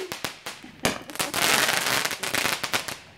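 Roman candle fireworks going off, a rapid series of sharp close pops and cracks with a dense crackling burst in the middle, loud and brief, with no speech.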